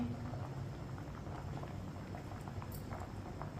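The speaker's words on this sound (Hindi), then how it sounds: "चावल ना हमारे हाफ बॉयल हो चुके हैं" Rice for sweet zarda bubbling at a steady boil in a pot, a continuous dense wash of fine bubbling and popping with no voices.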